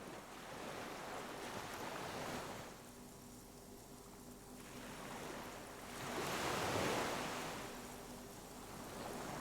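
Ocean waves washing over a bay in the Disco Elysium video game, a steady broad surf swelling and receding in slow surges, with a soft wind-like hiss and no voices.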